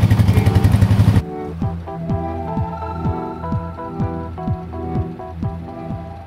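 An amphibious ATV stuck at night runs its engine, a loud rough burst at first, then dropping to a steady low putter with rhythmic knocking pulses.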